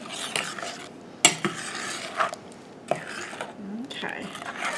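Strawberry Jell-O mixture is stirred for green tomato jelly, with a spoon scraping and clinking against a pot in a few distinct knocks amid soft, close kitchen rustling.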